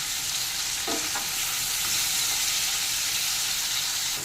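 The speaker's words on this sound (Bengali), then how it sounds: "এবার এর সাথে আরেকটু ভালো করে এটা ভেজে নেব" Chopped onion and tomato fry in a pan over medium heat, a steady broadband sizzle with faint stirring taps early on, continuous and close throughout, no talking.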